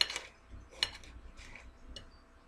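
A knife cuts tomato into small cubes on a board, giving a few light, close taps and clicks spaced about half a second apart, faint and without talk.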